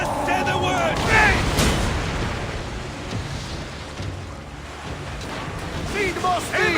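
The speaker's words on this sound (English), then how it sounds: "Ready to fire! Fire! Raining arrows!" Volley of arrows loosed during a naval battle in the video game Assassin's Creed Origins, a dense roar of whooshing and impacts with sea and ship noise, under overlapping shouted commands from the crew.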